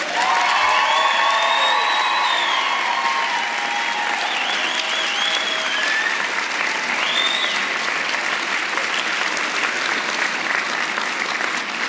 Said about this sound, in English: Candidates, please acknowledge these folks with an exuberant round of applause